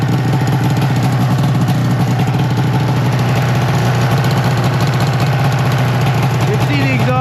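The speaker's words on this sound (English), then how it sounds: "And it's still idling a little high." An old Arctic Cat Firecat F6 snowmobile engine idling a little high after a cold start, a loud, steady, continuous drone with a constant pulsing throb and no pauses, close to the microphone.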